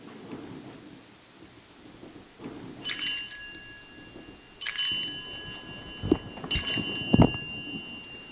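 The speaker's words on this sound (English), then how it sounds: "our worship today will begin in just a moment with the chiming of the bells" Church bells chime in three spaced strikes before a worship service, each ringing out with bright overtones that fade slowly, over a low rumbling background.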